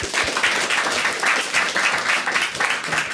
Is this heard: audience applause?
yes